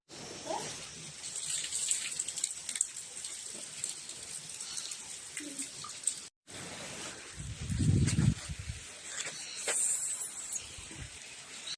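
Water splashes steadily from stone water spouts in Godawari, Lalitpur, Nepal, with a brief break midway and a heavier gush near the middle of the second half.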